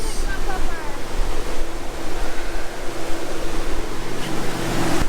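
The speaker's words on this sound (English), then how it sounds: "all of a sudden this windstorm just came out of nowhere" Loud, continuous roar of strong tropical storm wind buffeting the microphone with crashing surf waves underneath, constant throughout with no talking.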